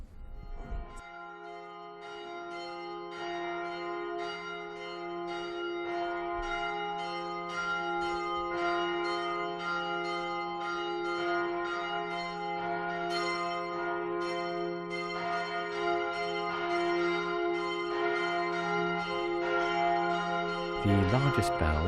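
The church bell of Pluscarden Abbey rings out the Angelus, regular loud strokes sounding one after another with a sustained, humming resonance that blends from stroke to stroke.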